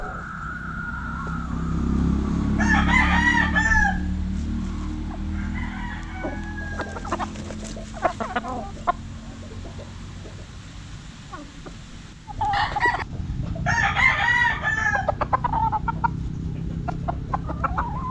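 Straight Claret gamefowl roosters crow in several distinct bursts, two prominent calls near the start and near the end, with scattered clucks and clicks between them over a low background hum.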